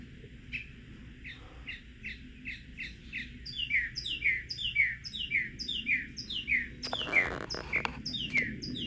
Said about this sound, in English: That bird singing.